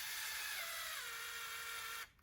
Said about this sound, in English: Probably shouldn't be using a drill, but so much faster.